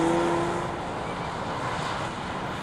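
A Jaguar XF's supercharged 3-litre V6, rated at 340 horsepower, gives a steady, full engine roar up close with no voices over it.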